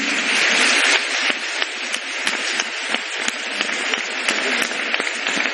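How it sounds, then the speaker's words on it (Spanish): Steady, dense clapping from an audience at a live flamenco performance in Lebrija, even and sustained with sharper individual claps poking through. "un aplauso para él"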